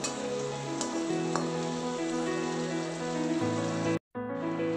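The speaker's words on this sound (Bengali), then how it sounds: "আমি এটাতে একটু গোটা জিরে, এলাচ, লবঙ্গ, তেজপাতা একটু ফোড়ন দিয়ে দিলাম।" Whole cumin, cardamom, cloves and bay leaf tempering in hot oil over a medium flame, giving a steady close sizzle and crackle throughout with a brief dropout near the end; no voices.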